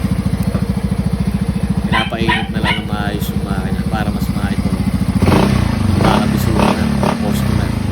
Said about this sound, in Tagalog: Napakatahimik po ng makina